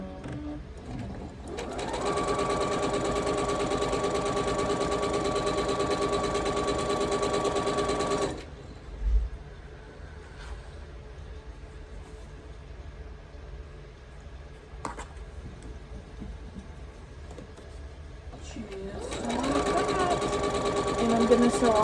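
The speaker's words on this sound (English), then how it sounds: "So I'm gonna sew all of the red 2 by 2." A sewing machine stitching pieces of red fabric together, a steady close whirring hum that runs for several seconds, stops, then starts again near the end.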